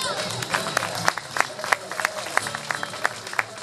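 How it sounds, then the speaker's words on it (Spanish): Audience at the Tuzantla Easter fair in 2013 claps for a musician, a brisk mix of individual hand claps over a busy crowd murmur, fairly close and lively. "quisiera que le demos un fuerte aplauso a todos"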